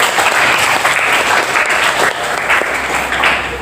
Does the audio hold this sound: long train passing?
no